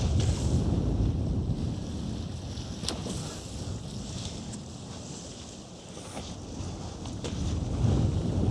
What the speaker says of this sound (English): If I punch straight into it like I am now, I feel myself having to pull on more throttle to overcome that headwind